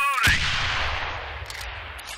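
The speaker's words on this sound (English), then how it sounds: "up on the D-pad a couple times will switch us to our grenade launcher" A grenade launcher fires in the 2011 Xbox 360 shooter Breach, a sharp booming report followed by a long rumbling blast tail, with a short rising electronic tone just before and faint clicks late.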